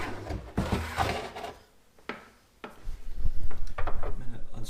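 A plastic sink trap nut is unscrewed by hand, giving a few scattered scraping, rubbing and clunking sounds close by, with brief quieter pauses between the handling noises.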